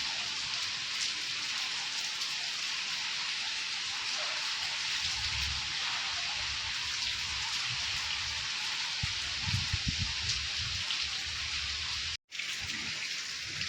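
Heavy rain after a windstorm pours steadily in a dense, hissing wash, with occasional heavier splashes and a brief dropout near the end; no talking.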